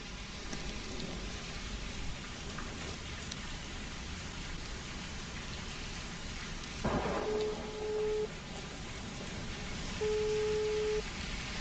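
Heavy rain pours in a dense, steady hiss throughout, with a rumble of thunder partway through and faint tonal horn-like beeps later.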